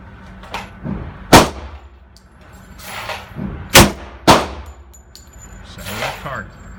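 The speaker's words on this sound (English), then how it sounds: "shooting pistol for the first time" A SIG P220 Combat Model pistol fires at an outdoor shooting range. Four sharp, loud shots ring out at irregular intervals, each with a metallic ring and a short echo.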